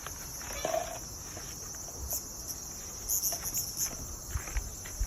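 Cicadas during a typhoon keep up a steady, high, continuous buzzing drone, with soft scattered rustles and knocks nearby.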